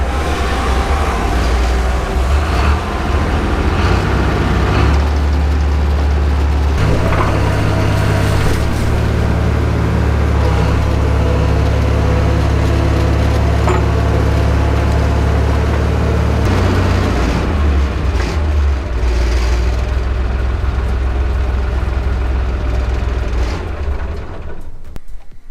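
A 1968 excavator engine runs loud and steady, a heavy low rumble from close by that holds for most of the stretch before easing near the end, with no talk over it.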